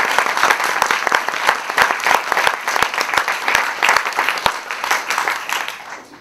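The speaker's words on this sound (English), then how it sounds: "Let's have a round of applause for Marian Ryan." An audience at a district attorney debate at Middlesex Community College bursts into steady, sustained applause, many hands clapping densely and loudly from start to finish.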